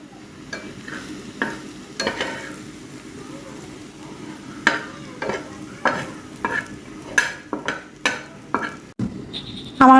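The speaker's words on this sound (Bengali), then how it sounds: "এখন আমি মাঝে মাঝে ঢাকনাটা সরিয়ে একটু নাড়া দিয়ে দিব।" Meat simmering with a little water in a covered pot is stirred after the lid is lifted, sharp scraping and clanking strokes repeating irregularly over a soft bubbling sizzle, with a metallic clatter near the end.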